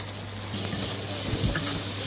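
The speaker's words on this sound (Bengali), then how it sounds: "পেঁয়াজ ভাজা মোটামুটি হয়ে গেছে" Onions sizzle steadily in a hot pan, a constant crackling hiss that gets a little louder partway through. No one speaks.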